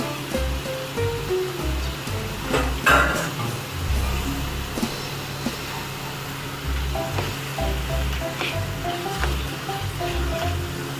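Chicken mince frying with browned onions in a pan for homemade momo filling, giving a steady close sizzle with occasional stirring scrapes throughout, and no talk.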